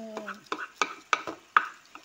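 Garlic cooks in a pan with merguez sausages for chakchouka. About six rhythmic stirring scrapes ring out over a faint sizzle, with a brief tonal sound at the start.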